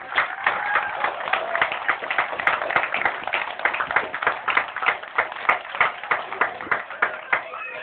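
Crowd applause at a Boston community family day honoring firefighters and police officers, a steady wash of many hands clapping throughout, fairly loud and close, with a few sharper individual claps standing out.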